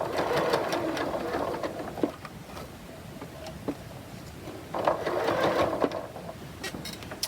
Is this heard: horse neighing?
no